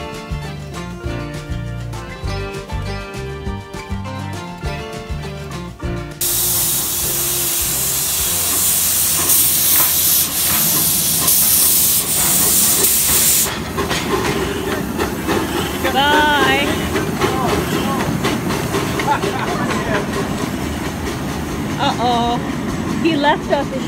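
A steam train engine on the Riverside and Great Northern line at the Dells is turned around on the track, with loud hissing steam bursts, heavy mechanical rumble and clanking, and voices talking over parts of it.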